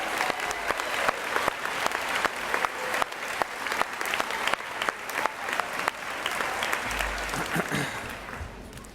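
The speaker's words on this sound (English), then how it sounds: "how about a big round of applause for these guys right here" An audience at a school board awards ceremony gives a sustained round of applause, with sharp individual claps standing out over a steady, fairly distant crowd wash.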